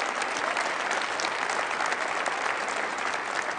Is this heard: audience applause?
yes